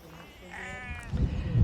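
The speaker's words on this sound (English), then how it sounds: "Morning, Mr. Sheep." A single sheep in a fenced field in the Elan Valley bleats with a wavering, nasal call, followed by low rumbling background noise that grows louder.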